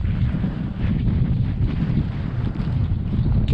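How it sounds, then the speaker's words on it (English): Wind gusts rumbling heavily against the microphone by a river at Caballo Lake State Park, New Mexico, a constant loud low-frequency roar that swells slightly at moments. "It's a little windy"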